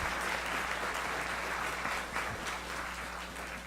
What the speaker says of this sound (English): Perhaps we could have a round of applause for all of the people who participated in the Infomart.